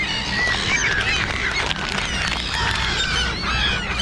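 Seagulls and crows squawk and call in a dense, overlapping chorus while competing for food on a wintry day, with steady outdoor background noise and no talking.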